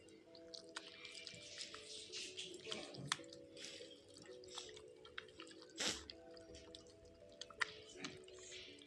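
Soft, wet squishing and sticky kneading of a dough mixture with an egg, worked together by hand for an iftar snack, close and quiet, with occasional drips and a sharp click.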